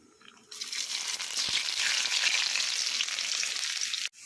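Chopped garlic dropped into hot oil with popped mustard seeds, with a loud, steady sizzle that starts suddenly and holds close for several seconds, then cuts off at the end.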